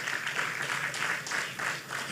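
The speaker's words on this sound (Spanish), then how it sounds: "Denle un aplauso al Señor por las mujeres." A church congregation gives a brief round of applause, a steady wash of clapping at moderate loudness with voices mixed in.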